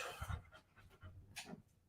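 A dog pants nearby in quick, soft breathy bursts, with an uneven rhythm and no talking.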